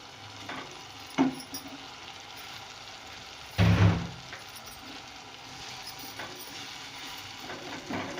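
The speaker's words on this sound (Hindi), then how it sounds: "वो कीमा मैं इसमें डालकर उसे मसाले के साथ बहुत अच्छी तरह भून लूँगी" Minced keema with peas frying in spices in a pan, a low steady sizzle with scattered stirring clatters and one louder scrape partway through, close and mostly free of talk.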